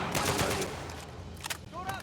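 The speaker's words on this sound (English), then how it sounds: "Dodging bullets like Neo" Gunfire from the video game Uncharted 4 crackles in a dense burst of rapid shots over the first second, then thins to scattered, lighter bursts with some game noise, all fairly loud and close.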